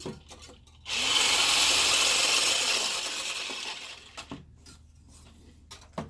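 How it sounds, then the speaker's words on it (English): A frozen coffee mocha mixture being whisked in a blender, a loud close whirring burst of several seconds that tapers off, bracketed by a few short clunks and taps. "we're going to whisk it again"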